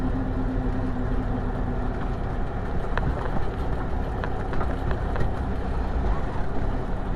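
An M923 military truck running on transmission fluid rumbles loudly and continuously as it works through gears, a dense close engine drone with a few clunks partway through.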